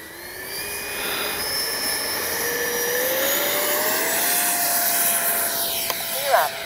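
A Freewing 70mm F9F-5 Panther RC model jet with an afterburner mod on a speed run, its electric ducted-fan whine sweeping past loudly with a Doppler shift, steady and airborne throughout.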